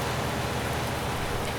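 Steady rain in the video game Farming Simulator 19, set on an Irish farm, a dense continuous hiss of falling drops that stays even and fills the whole moment with no voices.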